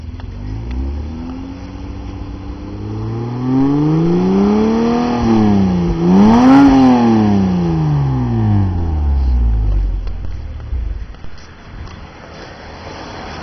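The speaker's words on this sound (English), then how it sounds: "Hey Arsh, I want to hear the exhaust real quick." 2003 Mitsubishi Eclipse (third generation) exhaust revving up and back down in one long, loud, close sweep, the pitch rising to a peak before falling away to idle.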